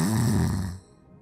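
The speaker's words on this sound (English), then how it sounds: "He said again as he began snoring" A drunken man snores in a stupor, one loud, rough, low-pitched snoring breath close by that fades out after about a second.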